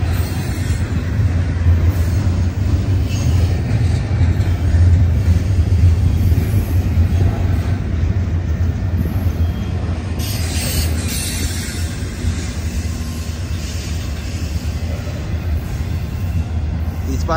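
A Union Pacific INPOA freight train arrives at Emeryville, a loud continuous rumble of rolling cars with rail clatter and faint wheel squeal throughout.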